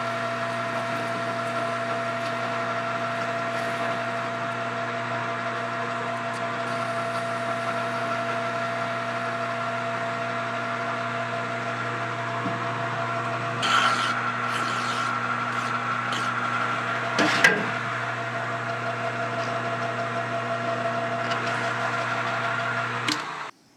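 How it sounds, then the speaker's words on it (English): A metal handlebar fixture turns on a lathe in a machine shop, a steady tonal motor whine and cutting drone holding throughout, with a few brief clanks and scrapes midway. "so let's go to the lathe."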